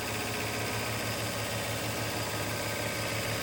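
A fly cutter milling a metal hinge at 900 RPM with a slow feed and light 0.1 skim cut, giving a steady, continuous machine drone with a low rhythmic pulse throughout, no talking.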